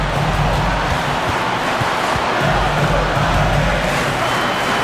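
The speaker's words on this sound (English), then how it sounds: "And this crowd ecstatic. They are pumped up." A dense arena crowd cheers in NBA 2K26 during a Nuggets vs Hawks game, a loud, continuous roar that holds steady throughout.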